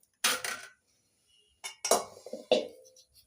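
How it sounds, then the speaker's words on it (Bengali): A soft dough of ripe jackfruit is tipped out of a pot onto a metal plate, giving a few clinking, scraping metallic knocks in two short bursts with a quiet pause between them. "ডোটা একটা থালায় ঢেলে নিচ্ছি।"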